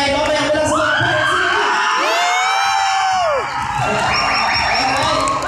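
At a debut celebration, a crowd of adults and children shouts, whoops and cheers loudly on cue, the swell rising and falling over several seconds while a voice carries above it.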